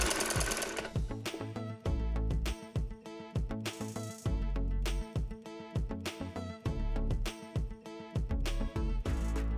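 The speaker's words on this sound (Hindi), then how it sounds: "सेम इसी प्रोसेस से हम दूसरी साइड पे भी सिलाई को लगा लेंगे।" An electric sewing machine stitches a shalwar seam in rapid mechanical bursts, a loud close rattling hum in short runs separated by brief pauses, alone with no talking.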